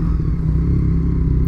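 Motorcycle ridden in a video game, a continuous loud engine drone with steady low hum and light rattle, alone without voices.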